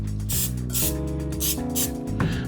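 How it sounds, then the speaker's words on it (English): Pam cooking spray misted onto raw beef short ribs before seasoning: four short, sharp aerosol hisses in an even rhythm, close up, over a steady tonal background hum. "we're gonna spray them with a little bit of Pam"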